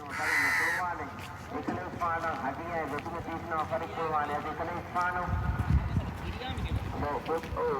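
Crows caw repeatedly in harsh bursts on Himandhoo island in the Maldives, mixed with people talking and a low rumble, moderately close.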